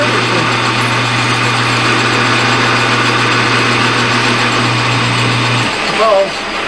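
A machine boring out a bushing for racing, a steady loud mechanical drone with a constant low hum that cuts off near the end, followed by a brief clunk.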